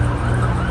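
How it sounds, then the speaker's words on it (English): A loud, close emergency vehicle siren sounds as a steady, continuous wail with no voices over it. "Sirens."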